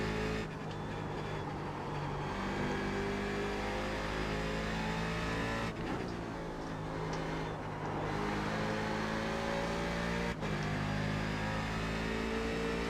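A race car engine in the iRacing sim, droning loud and continuous with steady high revs, brief dips as it shifts or lifts off, then climbing again.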